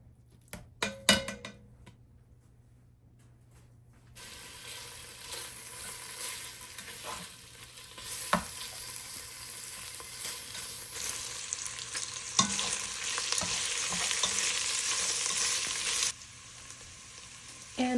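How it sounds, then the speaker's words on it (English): Bacon cut into one-inch squares sizzles over medium heat in a pot for chili. A few soft clatters open the clip, then a steady frying hiss builds and grows louder, with occasional stirring scrapes and no talk. "we're stirring this bacon around until it gets nice and crispy."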